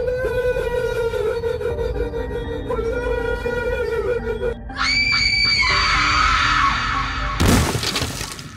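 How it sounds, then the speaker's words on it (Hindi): Screaming and shrieking rise from inside a bungalow in the Kamla horror game, set over droning tones and ending in a sharp crash. "अंदर से चीखने चिल्लाने की आवाज आने लगती है"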